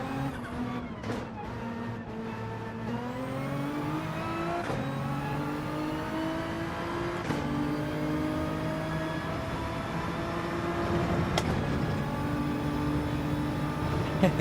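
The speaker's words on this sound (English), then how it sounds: "I'm just going to go out and do a little few laps in the GTR" A Nissan GT-R in Gran Turismo 7 revs through gears on track laps, engine pitch climbing and dropping with several sharp shifts, a steady close motor sound without speech.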